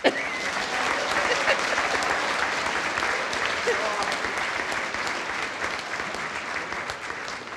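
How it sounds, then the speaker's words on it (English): A large audience claps at a senior awards night, with dense, steady applause that fills the whole stretch at an even, sustained level. "Now you can clap"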